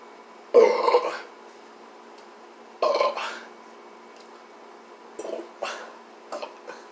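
A person who has been chugging soda lets out several loud, close burps in separate bursts, two strong ones early and a few weaker, shorter ones near the end, with quiet gaps between.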